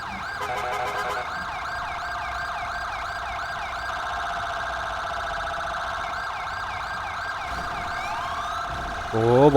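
A wailing ambulance siren in GTA 5 cycles steadily up and down, loud and continuous, with a brief burst of other noise near the end.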